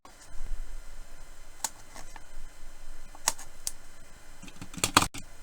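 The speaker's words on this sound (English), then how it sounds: "So if we use a pair of scissors," Several crisp snips close by, a few spaced out, then a quick cluster of cuts near the end, as scissors trim a thin edging strip.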